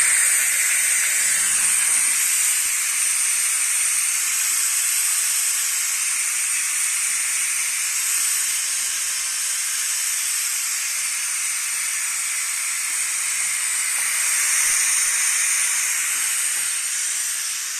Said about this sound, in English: you press this button here and you'll get lots of hissing noises, meaning all the pressure inside there now is being released